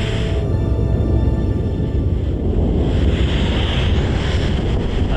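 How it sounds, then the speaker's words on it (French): Ocean wave striking a racing sailboat from behind during a solo round-the-world race: loud, continuous rushing surf and heavy wind buffeting the microphone, with a surge of hiss as the water hits. "Et voilà une vague par derrière."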